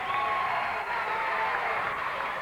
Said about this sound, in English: You can hear the crowd, folks.